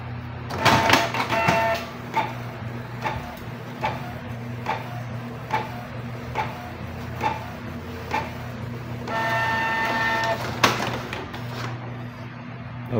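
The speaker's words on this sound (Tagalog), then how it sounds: "magna-nozzle check tayo and press the stop, press and hold, and then blink once" A Canon G-series inkjet printer (G3000/G2000/G1000 type) whirs and clicks while running a nozzle check, its carriage ticking at regular intervals, with a louder mechanical buzz near the end.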